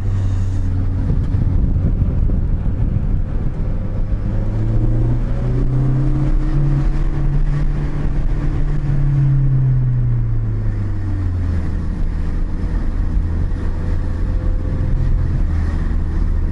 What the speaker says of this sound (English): Hear the back gargles of the exhaust.